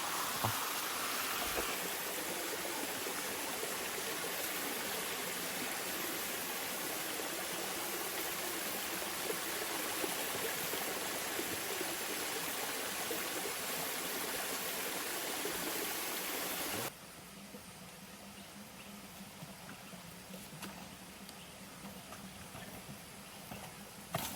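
A waterfall pours steadily along a forest trail, a loud continuous broadband rush that drops abruptly to a softer level partway through.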